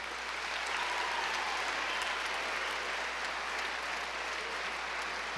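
An audience in a performing arts centre applauds young performers: dense, sustained clapping at an even level throughout, with no voices standing out.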